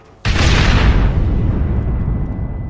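Charges planted at a gate detonate in a Red Dead Redemption shootout, a sudden loud boom after a brief quiet moment, then a heavy rumbling roar that slowly decays.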